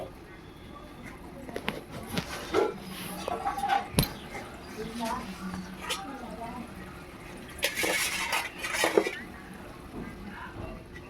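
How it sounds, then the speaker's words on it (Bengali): Water from a rinsed spice bowl is poured into a paneer and poppy-seed gravy, with soft splashes and a louder gush near the end. A voice talks over the kitchen noise. "এখানে আমি মশলার বাটিটাকে ধুয়ে জল দিয়ে দিলাম।"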